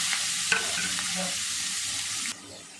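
Onion sizzles in hot oil with mustard seeds and curry leaves, a steady bright frying hiss with small pops and the scrape of stirring, ending with a quieter sizzle.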